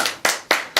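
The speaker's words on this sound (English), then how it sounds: "Give him a little round of applause," A few quick, crisp hand claps ring out at a pub quiz, close and loud, spaced at an even rhythm for under a second.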